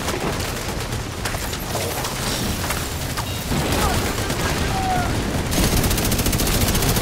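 Sustained automatic gunfire from a heavy enemy in Division 2 gameplay, a dense rapid rattle of shots running continuously and growing louder toward the end, mixed with other battle noise.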